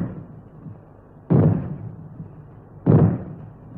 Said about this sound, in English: When fallout is expected, you will hear three bangs in short succession,